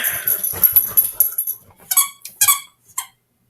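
A dog plays with a squeaker toy at close range, giving a few sharp high squeaks and yips after some soft rustling, then falling silent.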